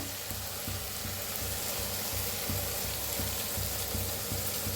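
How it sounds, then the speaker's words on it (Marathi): Eggs for egg fried rice fry in a hot pan with a dense, constant crackling sizzle and faint rhythmic stirring underneath, close and steady with no speech. "अंडी भाजून घेऊया"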